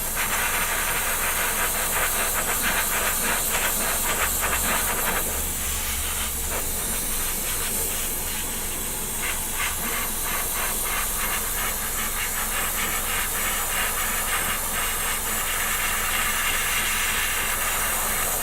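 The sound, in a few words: airbrush spraying paint on model kit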